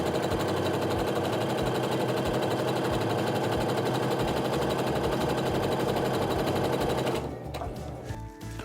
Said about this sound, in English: So I finished sewing those 3 together